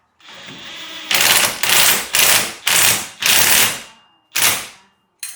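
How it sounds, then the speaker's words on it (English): An adjustable wrench tightens a 19 mm nut while installing an angle kit on a C5 Corvette, giving about six loud, close rasping ratchet strokes in a steady rhythm, each ending abruptly, with no talking. "I'm using an adjustable wrench, and then this is a 19, 19 on the top."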